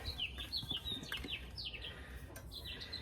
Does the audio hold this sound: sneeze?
no